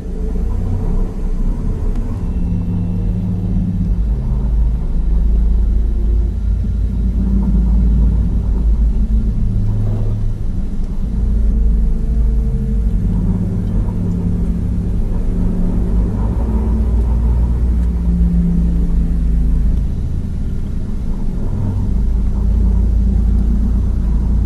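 A flying car (AV) engine in the video game Cyberpunk 2077 gives off a steady, loud low rumble with a droning hum that holds throughout, close and continuous with no talk.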